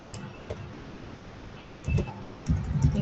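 Typing on a computer keyboard, with scattered key taps at first and then quick clustered bursts of clicks close by in a quiet room.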